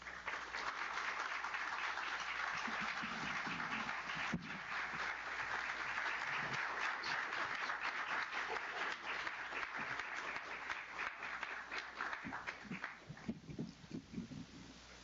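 Sustained audience applause fills a hall at an MLK Day celebration, a steady dense wash of many hands clapping that holds loud throughout, with a few louder individual claps and faint voices near the end.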